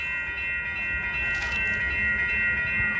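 A commuter passenger train rolls past at a school crossing in Montreal on a freezing winter day, giving a steady close rumble with a sustained high tonal whine over it and faint wheel clatter, with no talking.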